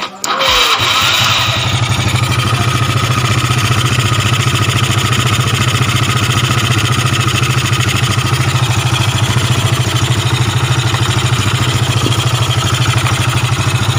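A Yamaha Nouvo motor scooter cranks and starts, then settles into a loud, steady, close-up idle that keeps running evenly to the end.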